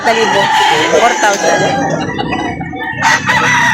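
A nine-month-old rooster offered for sale at a poultry market in Lipa City, Batangas crows loudly and close, a long strained call followed by clucking, with a voice briefly audible behind it.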